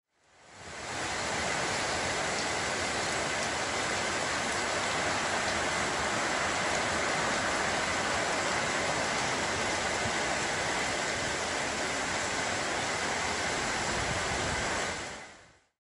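Heavy rain pouring down at a roadhouse on a Queensland highway stretch, a dense, unbroken hiss of downpour that swells in and holds loud and even for the whole stretch before fading out.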